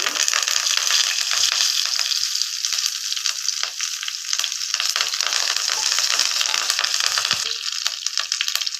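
Curry leaves and tempering spices hit hot oil in a pan, giving a loud, continuous crackling sizzle with sharp spitting pops scattered through it, heard alone without voices.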